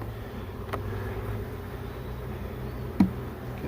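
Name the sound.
honey bees buzzing during package install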